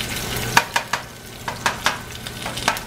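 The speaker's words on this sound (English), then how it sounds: "You don't need high heat to fry eggs." Eggs fried gently over low heat in a pan with a pinch of salt, giving a soft crackle broken by several sharp pops and spits at an irregular rhythm, close by with no talk.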